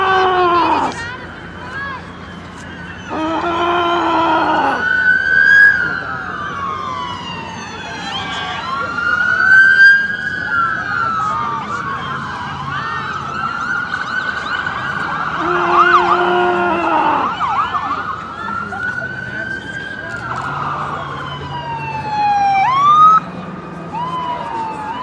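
Emergency vehicle sirens wail and rise as responders arrive at a staged prom-night drunk-driving crash, the loud sweeping tones rising and falling continuously over a rumbling engine, with voices heard in the background.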